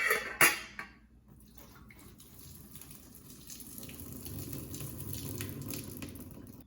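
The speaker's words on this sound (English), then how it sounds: "Once our pasta is cooked, we're gonna drain the water out." Cooked pasta water being drained from a pan for pesto macaroni and cheese: a brief clatter and splash at the start, then a soft, steady rush of pouring water that swells slightly, close and fairly quiet.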